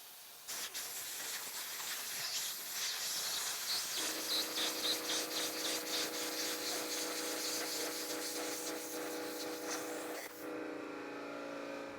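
Compressed air from a small-tipped air nozzle on a home compressor blows under the end of a motorcycle grip, a steady loud hiss that changes tone partway through and cuts off near the end, with no talk.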